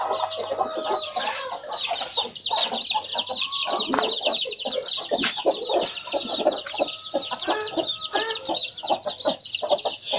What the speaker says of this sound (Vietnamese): Bò gà đang ấp kìa.